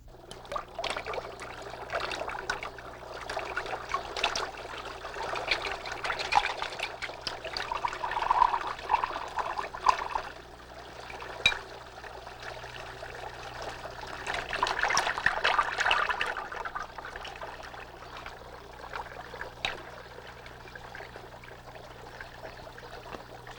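Water is poured from a vessel indoors in a 1985 Brazilian film scene, heard as soft trickling with two louder pouring bursts over a quiet background.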